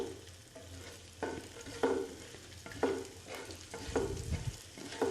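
Whole spices for masala pulao crackle and fry in hot oil, a steady sizzle broken by periodic scraping stirs and a low rumble, close and moderately loud with no voices.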